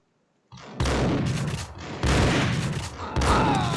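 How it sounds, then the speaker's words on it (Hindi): Gunfire in the video game Max Payne, with heavy booming shotgun-style blasts in quick succession, loud and close, each followed by rumbling echo and debris noise, no voices over it. "एक में नहीं मर रहा भाई लौंडा शॉटगन से"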